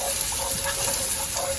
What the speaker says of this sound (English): keep stirring while you add the milk